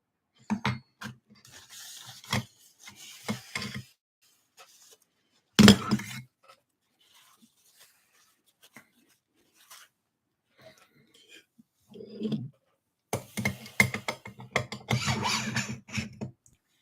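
A dagger blade is hand sanded with a 400 grit abrasive, giving bursts of dry rasping strokes that come near and loud, with quiet gaps between them and a sharp knock in the middle.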